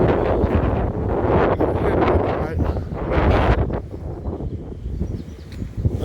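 Strong wind buffets the microphone outdoors near a paddling pool and tennis court, a loud, continuous roaring rush with gusty swells throughout.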